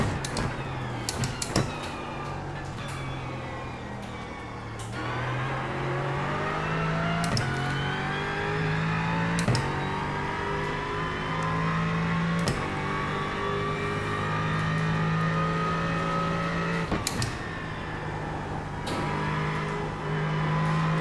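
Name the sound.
Aston Martin race car engine in video game iRacing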